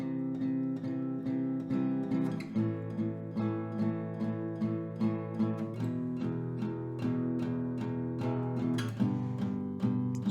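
Slow acoustic guitar strumming of a song, eight even strums per chord with bass-heavy downstrokes on two or three low strings, close and clear with no talking.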